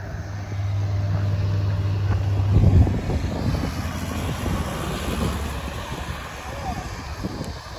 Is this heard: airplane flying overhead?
yes